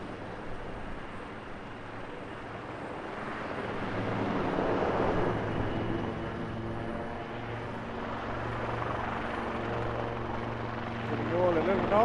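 A Royal Navy Wildcat helicopter flies at the Eastbourne International Airshow, its rotor and turbine giving a steady, throbbing drone that swells and fades slightly as it passes, with a commentator's voice talking over it.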